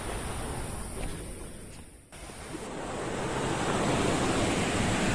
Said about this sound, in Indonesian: Jadi ini aliran sungai yang nanti akan digunakan untuk tubing dan rafting